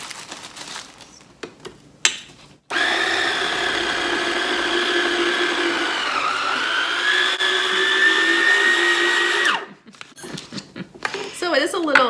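A Yonanas frozen dessert maker runs with a loud, steady motor whine for about seven seconds, its pitch dipping briefly under load midway, with bits of talk and handling before it starts and after it stops.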